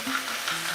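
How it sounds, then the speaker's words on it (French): Pork chops sear in an oven-safe pan with a light, steady sizzle and faint stirring over a brief moment, heard alone without talk. "je vais juste faire colorer la viande un peu"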